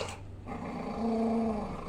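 A dog growls low and steadily, rumbling close by for a couple of seconds with a deeper, louder stretch near the end.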